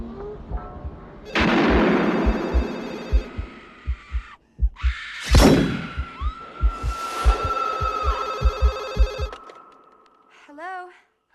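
Opening of the 1996 film Scream: a telephone bell rings loudly in repeated bursts while a woman screams, backed by pounding rhythmic beats and dramatic score, ending with a short rising shriek.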